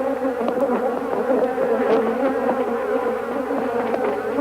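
A dense swarm of attacking Africanized bees stinging a bag holding a microphone makes a continuous, close, loud droning buzz with scattered sharper flicks and no voices.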